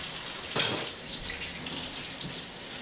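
Tap water splashes steadily into a sink while hands are washed under cold water, with a short sharp clack near the start and a continuous soft rush after.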